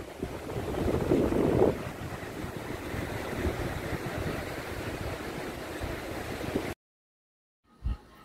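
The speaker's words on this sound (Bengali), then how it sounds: "আন্দামানের হ্যাভলকে আইল্যান্ডে কালাপাত্তার বিচ।" Wind and waves roll steadily at Kalapathar beach on Havelock Island in the Andaman Islands, a black-rock shore, with a broad, gusty roar that cuts out abruptly, followed by one brief burst.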